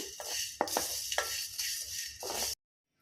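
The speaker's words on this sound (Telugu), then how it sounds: "త్రీ ఇలాచి జాపత్రి అండి ఇవన్నమాట బాగా స్మెల్ వచ్చే వరకు వీటిని వేయించుకోవాలి" Cardamom and mace fry in hot oil in a pan for a chicken fry, giving a steady close sizzle broken by a few sharp stirring scrapes before it cuts off abruptly.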